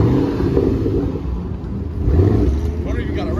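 A car engine at a large car meet rumbles loudly up close, building into a deeper rev in the second half, with people talking over it.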